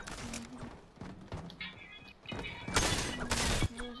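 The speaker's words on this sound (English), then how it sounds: "Heavy shotgun." A heavy shotgun in a video game fires several loud booming blasts, spaced irregularly with a larger burst near the end, while someone talks over the action.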